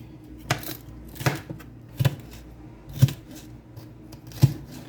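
A knife cuts into a bell pepper on a board to remove its seeds, giving five sharp, separate chops spaced about a second apart, close and moderately loud.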